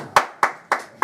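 Four separate sharp claps spaced evenly in about a second, crisp and close, from a single person or small group in a comedy show audience.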